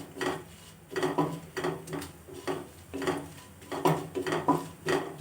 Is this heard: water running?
no